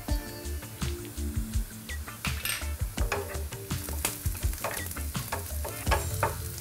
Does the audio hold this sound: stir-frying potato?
yes